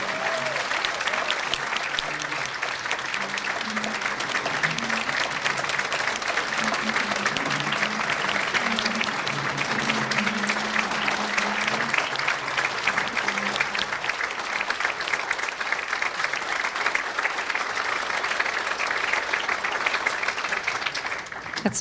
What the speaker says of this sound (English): Javon, do you mind just standing and getting a round of applause for sharing your story with everyone?